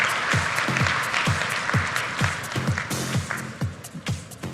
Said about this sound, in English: let's get the applause roaring